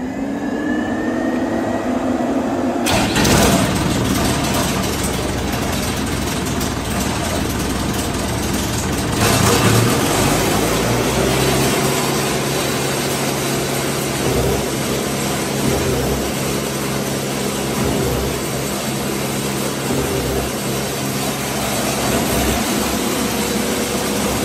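A concrete pump's 4105 engine cranks and catches, the sound changing abruptly a few seconds in and again later before it settles into a steady, loud, droning run with a low rumble.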